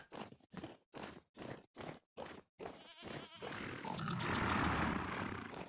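Goats in the survival game Vintage Story, in late winter: a run of short, evenly spaced bleat-like grunts for about three seconds, then a louder, denser wash of animal noise and rustling, with no talk over it.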